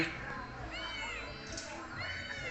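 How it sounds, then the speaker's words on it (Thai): A cat meows several times in a lively indoor scene, giving high rising-and-falling cries near the microphone while people talk and play in the background. "แมวมันก็อยากเล่นด้วย"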